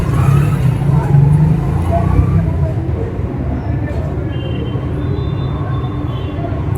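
A Delhi metro train arriving at a station platform, a loud, steady rumble of wheels and motors with a low hum that eases slightly as it pulls in, ambient and continuous.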